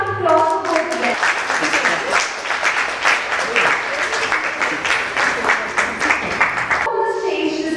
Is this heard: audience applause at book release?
yes